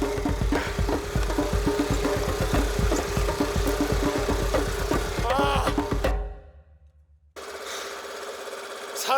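A small 50cc motorcycle engine on a mountain trip runs with a dense, rapid mechanical chatter. It cuts out suddenly for about a second, then resumes at a steadier, softer running tone.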